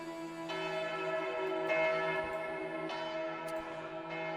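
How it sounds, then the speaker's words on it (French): A church bell rings in slow, evenly spaced strikes, each one leaving a long resonant hum with bright overtones, heard fairly softly with no voices. "vous entendez une cloche résonner"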